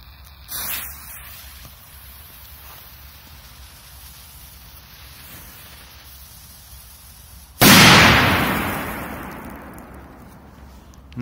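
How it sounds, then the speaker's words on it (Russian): Fieria K-22 and P-2000 firecrackers with flash go off outdoors: a sharp pop near the start, then after a quiet stretch one loud, close blast with a long decaying roar. "сделаем тест, что мощнее, предыдущая петарда К-22 или П-2000 от Фиерии"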